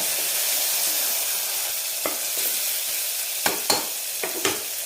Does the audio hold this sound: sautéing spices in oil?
yes